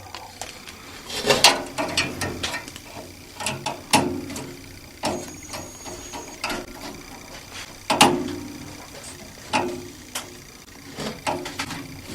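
Metal bolt being worked out of a nut on a steam boiler, a long bolt giving repeated ratcheting clicks and scraping metallic knocks in irregular bursts, close and moderately loud.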